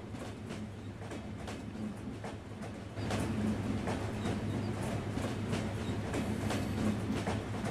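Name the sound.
Banalata Express train at Abdulpur junction, train simulator video game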